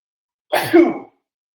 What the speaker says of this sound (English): I think I have a sneeze coming on. So I'm going to sneeze.